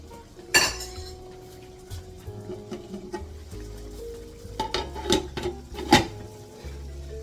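Metal cookware clinks and clatters intermittently, with a few sharp clanks as a lid is set on a simmering pot while making chicken piccata, amid low kitchen rumble.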